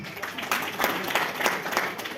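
Audience clapping for an honored guest at a Birsa Munda birth anniversary event with a revenue minister, a short burst of dense claps with a few louder hits, fairly close.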